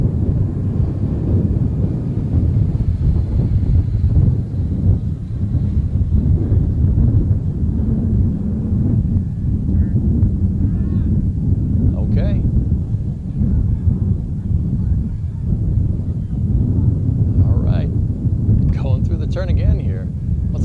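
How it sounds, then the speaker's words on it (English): Gusty wind at an outdoor model aircraft competition, a heavy low buffeting rumble against the microphone that persists throughout while a commentator talks over it. "Now we got a pretty good gust of wind."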